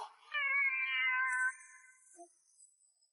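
A single cat gives a drawn-out, clear meow lasting about a second, close and fairly loud, followed by quiet faint noises.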